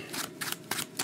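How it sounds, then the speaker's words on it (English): Brief bursts of riffling card shuffles, three or four quick crisp flutters close by, with no talking. "I'll give this a good shuffle"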